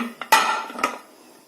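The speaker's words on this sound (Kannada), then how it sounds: "ಗ್ಯಾಸ್ಕೆಟ್ನ ತೆಗೆದುಬಿಡ್ಬೇಕು" The rubber gasket is pulled from a pressure cooker lid, giving a few close metallic knocks and clatters, one loud clank followed by a fading ring, then quiet.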